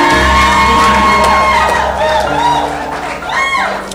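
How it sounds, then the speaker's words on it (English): Guests at a wedding ceremony cheer loudly, with whoops and shouts close by and voices rising over the din. "Clap for him."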